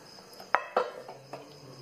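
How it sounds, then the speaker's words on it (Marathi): Two sharp metallic clanks in quick succession, with a fainter clink afterward, as a lid is set onto a cooking pot of palak paneer in a quiet kitchen. "आणि याच्यावर ठेवूया झाकण"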